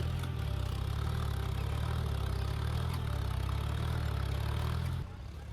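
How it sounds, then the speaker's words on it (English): A John Deere 5042D tractor stuck deep in a muddy field, its engine droning loud and steady with a heavy low rumble as the wheels spin, then easing off slightly at the very end. "The John Deere 5042D is stuck deep in the field, its wheels spinning but only digging deeper."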